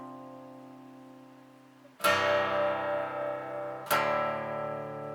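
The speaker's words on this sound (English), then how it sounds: "You just strum those 3 chords." Sustained electric guitar chords from a song ringing out, a soft held chord, then two firm strums about two seconds apart, each left to ring.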